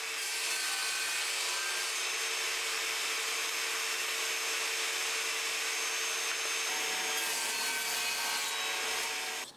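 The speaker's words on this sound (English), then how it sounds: "I want to cut these boards into squares" A table saw whines loudly and steadily as it cuts wooden boards into squares, a continuous high-pitched buzzing drone close by for the whole stretch.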